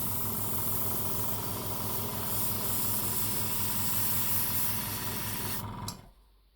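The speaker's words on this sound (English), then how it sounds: "So I'm going to mix it with flow improver only and see how we get a spray." Airbrush spraying paint thinned with flow improver while painting Warhammer tanks, a steady loud hiss with a low pulsing compressor hum that cuts off abruptly near the end.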